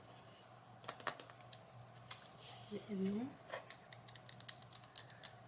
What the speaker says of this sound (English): Let's do a new trigger keyboard.